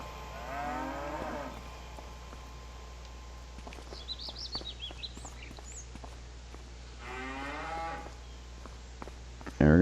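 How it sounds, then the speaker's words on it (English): Cattle in Farming Simulator 25 moo twice, a long low bellow near the start and another toward the end, with faint birdsong chirping in between and a brief thump at the very end. "What I find cool is we got these cows as little babies."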